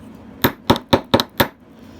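A metal hammer strikes a stud earring wire five times in an uneven rhythm, each sharp, close tap ringing briefly against a hard surface.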